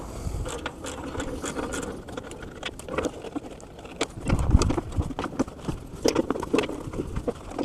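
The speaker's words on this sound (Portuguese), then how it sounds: "nós vamos utilizar aqui uma chave 14 na ocasião e uma catraca para a gente soltar os calços do motor" A ratchet wrench turning a 14 mm socket to loosen the motor mounts of an old compressor during a compressor replacement, giving rapid, uneven metallic clicking close by with knocks of metal, and no voices.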